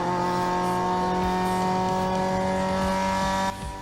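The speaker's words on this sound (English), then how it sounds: "Hits the brakes, down the gears, 3rd gear, into 2nd gear, turns the car in, starts to pick up an early throttle" Onboard a race car at a Scottish circuit, a loud, sustained engine drone with a strong tonal whine dominates, braking toward a hairpin and shifting down into second, then drops suddenly in level near the end.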